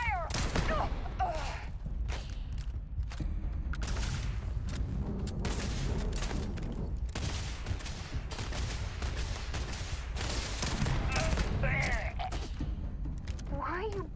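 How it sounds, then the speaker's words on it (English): Gunfire in the video game Starfield, with repeated bursts and sharp shots over a steady noisy backdrop, while voices shout and talk throughout. "Taking fire!"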